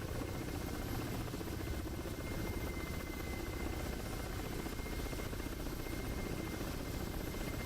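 A Ka-50 helicopter in a video game race gives off a continuous, dense rotor and engine drone, steady and loud throughout with no pauses and no voices.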